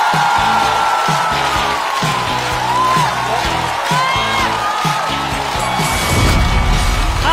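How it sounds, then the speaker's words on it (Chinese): A live stand-up comedy show audience cheers and whoops to welcome a comedian to the stage, loud and sustained throughout, with music or band hits pulsing beneath the crowd noise. "掌声欢迎王冕"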